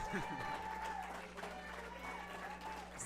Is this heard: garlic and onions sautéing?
no